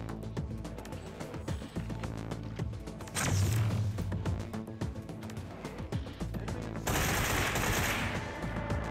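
Shotgun fire in the video game Get Even, with loud repeated blasts over a busy, mechanical game soundscape, interspersed with reloading clicks and pumping actions.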